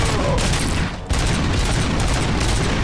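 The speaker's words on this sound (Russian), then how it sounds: "Ой, блин, граната взорвалась." A grenade blast in RoboCop: Rogue City fills the scene with dense, sustained explosive rumble and crackling debris, briefly dipping before a second loud burst continues the roar.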